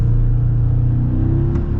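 A 2025 Chevy Silverado Custom pickup with a 4-cylinder engine accelerates, giving a steady, loud low engine drone and rumble that rises slightly in pitch, heard close and without talk.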